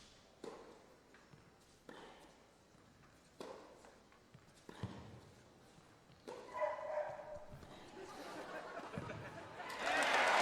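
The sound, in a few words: dog barking in the background at tennis match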